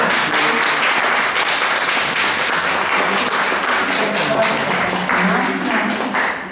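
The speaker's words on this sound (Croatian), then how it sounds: "Dobro, imamo jedan aplauz za našu" An audience at a gathering in Kozarac bursts into sustained applause, dense steady clapping that holds at full strength for several seconds before easing slightly at the end, with faint voices mixed in.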